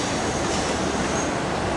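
A metro train passes in Singapore with a loud, continuous rushing rumble that fills the whole short stretch without a break.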